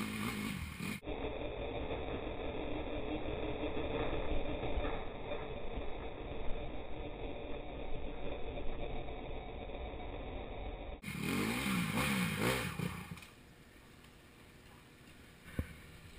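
A KTM Freeride 350 motorcycle engine ridden off-road in first gear on an old Roman road near Abergavenny, a low steady drone with slight rises in revs, then dropping away to quiet near the end, with a sharp knock.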